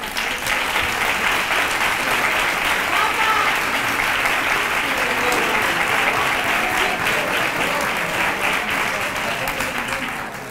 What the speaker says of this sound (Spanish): Quiero un fuerte aplauso para ella.